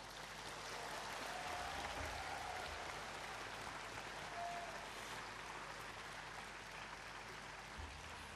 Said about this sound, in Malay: Mohon sekali lagi berikan tepukan yang gemuruh kepada mereka.